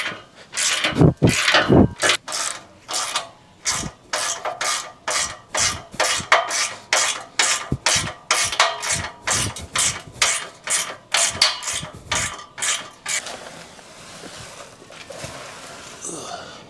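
A ratchet tightens an exhaust pipe clamp in quick repeated strokes, giving a close, rhythmic series of rasping clicks that slows toward the end.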